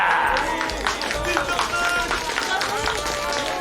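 A crowd applauding with scattered hand claps and cheering under a bright, ringing tone, fairly close and steady.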